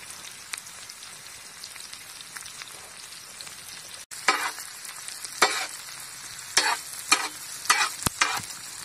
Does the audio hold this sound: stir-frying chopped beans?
yes